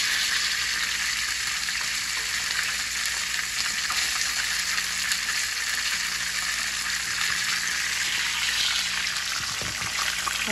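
A large talakitok fish fries in hot oil, a dense, loud, continuous sizzle and crackle that holds steady throughout with no voices.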